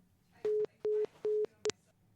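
Telephone tone after a hung-up call: three evenly spaced short beeps followed by a fourth clipped one, clear and alone over a quiet background hum.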